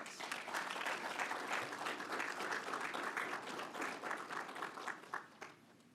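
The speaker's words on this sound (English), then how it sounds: "let's give the graduates a round of applause" A large audience applauds graduates at a metro transit operations graduation and promotion ceremony, a dense, steady wash of clapping from many hands that fades near the end.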